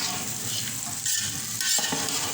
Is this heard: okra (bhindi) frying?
yes